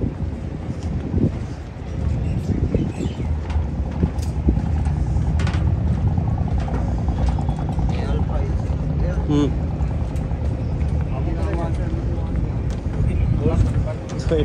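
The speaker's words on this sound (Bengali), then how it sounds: "তো এটা আমাদের বোট, এটা করে যাবো।" A boat in Dubai rumbles steadily close by with wind buffeting the microphone, while people talk over the engine noise throughout.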